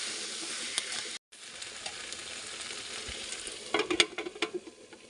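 Vegetable curry with potatoes stirred and fried in a wok, a continuous close sizzle with a brief dropout, then a burst of clattering stirring scrapes near the end.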